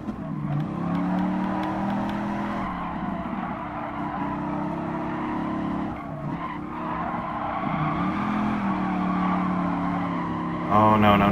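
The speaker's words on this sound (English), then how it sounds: "Look at Buddy sliding all over the place" Viper GTS '13 race car in Gran Turismo Sport sliding around the track in a race, with a steady engine drone and tire skid noise running throughout and a brief burst near the end.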